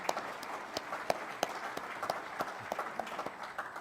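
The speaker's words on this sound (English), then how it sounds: "I want to ask for a round of applause for Rod Deardan" A round of applause at a Rotary club meeting, fairly quiet and thin, with distinct individual claps standing out in an uneven rhythm, as from a small room of people.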